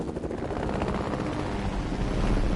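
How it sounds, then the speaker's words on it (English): A steady, loud rumbling drone of helicopter rotor noise in Fortnite fills the clip continuously, dense and unbroken, with no voices. "The helicopter noise is kind of scary."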